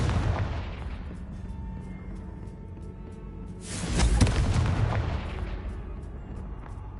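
Confringo blasting spells explode in Hogwarts Legacy inside a haunted Hogsmeade shop: a booming burst near the start, then a louder, sharper blast that rumbles out a few seconds later, with no voices.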